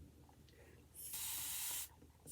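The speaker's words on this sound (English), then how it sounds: "spray my hair." A continuous-spray water bottle mists hair in one steady, close hiss lasting nearly a second, with quiet room sound on either side.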